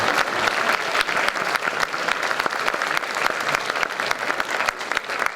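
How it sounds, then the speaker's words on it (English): An audience at a high school senior awards night claps steadily, a dense patter of many hands applauding without pause. "That's where we clap."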